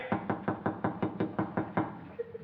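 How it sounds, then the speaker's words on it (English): Knocking on a door: about ten quick, even raps close and loud, followed by a couple of fainter taps. "There's someone at the door again, sir."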